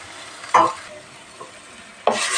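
Garlic with red and green peppers sautéing in a pan, a low sizzle broken by two louder stirring scrapes and a faint knock between them, with no voices.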